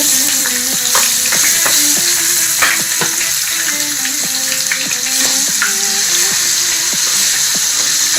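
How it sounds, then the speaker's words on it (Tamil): Small anchovies fry in hot oil over a lowered flame, a steady loud sizzle and crackle running throughout with occasional scraping clicks, no voices. "கொஞ்சம் நெருப்பை கொஞ்சம் குறைச்சி வச்சு பொரியுங்க நெத்திலி மீன் கரிஞ்சிடக்கூடாது"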